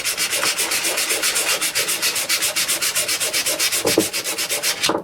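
Steady back-and-forth sanding of Kawasaki KZ400 motorcycle brake pads, a rapid regular rasping rhythm of abrasive on a hard surface, close and fairly loud, with a couple of brief knocks near the end.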